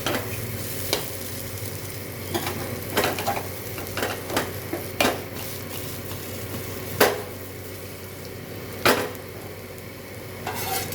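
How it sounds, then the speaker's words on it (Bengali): Bitter gourd and potato frying in a little oil give a steady, close sizzle. Sharp clacks and scrapes of a spatula against the pan come every second or two. No one speaks. "আলু উচ্ছেটা সিদ্ধ হয়ে গেছে, খুব কম তেলে ভাজাটা হয়ে গেছে।"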